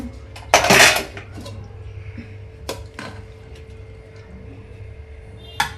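Metal utensils and pots clatter loudly in a home kitchen during a search for a ladle, with one heavy jangling burst followed by a few sharper isolated clinks and knocks.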